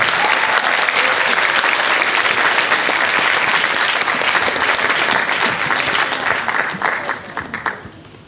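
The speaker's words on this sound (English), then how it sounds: "Round of applause." Sustained audience applause fills a theater at a middle school band concert, steady dense clapping for about seven seconds before fading out near the end.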